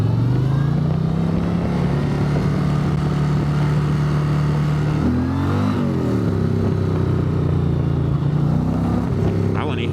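An Indian motorcycle in Street Glide style with a 112 cubic inch engine and traction control off accelerates through a corner, its loud low engine note rising and falling in pitch as the rider rolls on the throttle.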